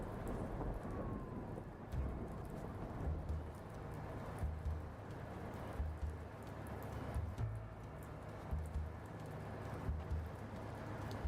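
Steady rain pours in a thunderstorm within the Blacksad: Under the Skin video game, with low rumbles of thunder rolling at intervals beneath the constant hiss of rainfall, moderately quiet and without speech.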